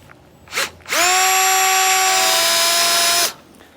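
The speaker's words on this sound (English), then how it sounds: "I'm going to take an 11/32 drill bit, and I'm going to just start the hole" A brief blip, then a power drill with an 11/32 bit whirs up to speed starting a hole in a metal trailer frame, holding a loud, steady high-pitched whine for a couple of seconds before stopping sharply.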